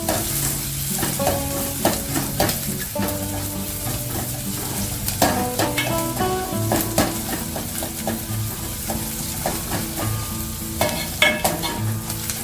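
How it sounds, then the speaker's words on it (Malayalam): Chopped garlic and onion being sautéd in a pan for a Thattukada-style chilli chicken: steady frying sizzle, repeated clinks and scrapes of a spoon stirring against the pan, no talking. "ഈ ചെറുതായി അരിഞ്ഞു വെച്ച വെളുത്തുള്ളിയും സവാളയും ഇട്ടുകൊടുത്ത് നന്നായി ഒന്ന് വഴറ്റിയെടുക്കുക."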